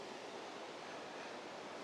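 Rutledge Falls, a waterfall framed by colorful foliage, gives a steady, even broadband rush of falling water, faint and constant throughout with no voices.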